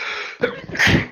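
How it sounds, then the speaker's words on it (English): A single abrupt sneeze cuts into speech, a sharp intake followed by a loud explosive burst near the microphone, brief and then fading. "Mid-sentence sneeze. Hard to control."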